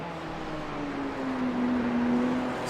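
A GT3 race car on the Nürburgring drones past with a steady engine tone sliding gradually lower as it goes by, loud and close against a background of track noise.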